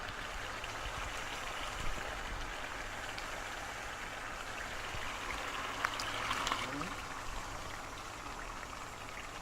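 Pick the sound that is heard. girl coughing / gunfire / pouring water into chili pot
pouring water into chili pot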